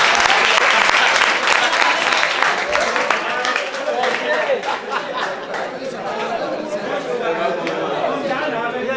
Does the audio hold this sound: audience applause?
yes